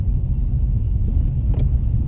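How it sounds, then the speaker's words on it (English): A car passes on a snowy road during a snowstorm, a steady low rumble that stays fairly loud throughout the short stretch, with no talk. "Another car coming ahead."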